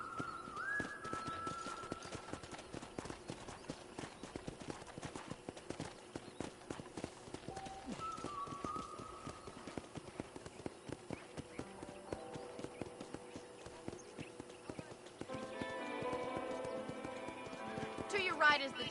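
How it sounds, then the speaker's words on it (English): Horse hooves clip-clop steadily through a ranch ride in the Western video game Red Dead Redemption, with a brief whinny near the start, under near-constant spoken dialogue and light background music. "let's see if you can still ride a horse"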